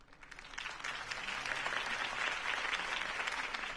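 Crowd applause after Harvey Dent's campaign speech in Batman: The Telltale Series, dense sustained clapping from a large audience at moderate distance, steady throughout with no voices.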